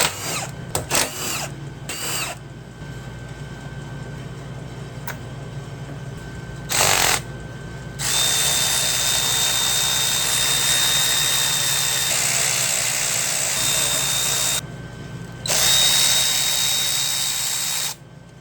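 Power tool bursts removing the top engine mount bolts on a Yamaha Grizzly 600 ATV, several short whirs early on, then two long loud runs with a whining tone, close by with no talk.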